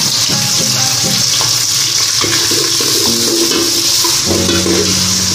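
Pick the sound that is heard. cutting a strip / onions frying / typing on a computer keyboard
onions frying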